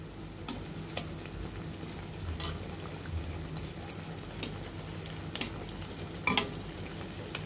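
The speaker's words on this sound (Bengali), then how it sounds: "আমরা চারটে চারটে করে ভেজে নিব।" Gaja, sweet dough pastries made with flour and sugar, fry four at a time in hot oil, giving a faint, steady sizzle with a few soft clinks and bubbling pops.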